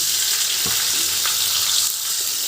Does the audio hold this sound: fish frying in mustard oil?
yes